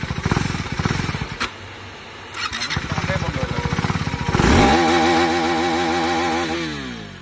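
KTM Duke 390 third-generation motorcycle engine, loud and close, chugging at idle with rough blips, then revving hard and holding high RPM before the pitch falls back as the throttle is released.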